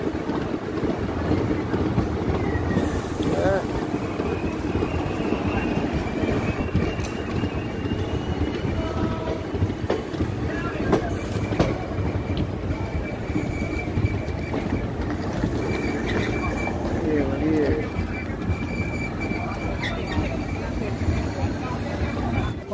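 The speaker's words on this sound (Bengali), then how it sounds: "ট্রেন আমাদের এসছে বিহারের বখতিয়ারপুর" The 13332 Intercity Express passenger train from Patna to Dhanbad runs steadily on rails with a continuous low rumble, faint rhythmic wheel clatter and occasional squeals. Passengers talk in the carriage throughout.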